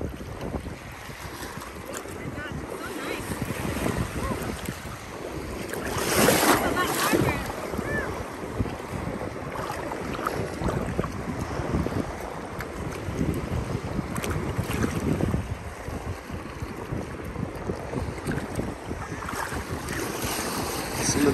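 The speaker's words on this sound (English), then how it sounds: "Oh, these waves are nailing me right in the navel." Ocean surf at Mexico Beach washes in close around a wader, with rolling swells surging and breaking in loud bursts amid heavy wind buffeting on the microphone.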